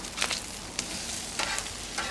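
Eggs frying on a Cuisinart 360XL flat top griddle, a steady, moderate hiss and crackle of sizzling with a few faint scraping ticks, no voices.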